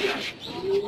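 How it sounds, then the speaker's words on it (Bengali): Domestic pigeons in a home loft of nesting boxes with eggs and chicks give soft, low cooing that repeats through the moment, fairly close, with faint voice-like murmurs around. "তো এই হচ্ছে আমার কবুতরের সেটআপ"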